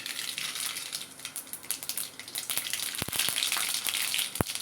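Mustard seeds go into hot oil in a pan for an okra curry and sizzle steadily close up, a bright crackling hiss with scattered pops and a few sharp taps from a utensil near the end.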